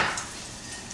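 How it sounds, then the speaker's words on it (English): A brief, steady sizzle of onion frying in a hot pan, close and fairly soft, with no voices. "Add your onion. Best sound in the world is a sizzle."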